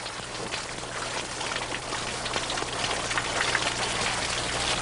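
Water runs steadily through carved stone ritual fountains at an Inca site near Cuzco, a continuous close splashing trickle with no voices.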